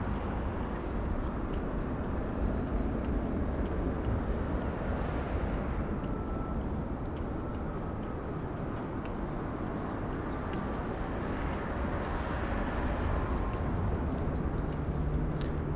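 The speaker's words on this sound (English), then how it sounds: "That plane's in our way." A nearby airplane's engine at an airfield in Sheboygan produces a steady, loud broadband rumble and drone that holds constant throughout, with the roar swelling slightly at times.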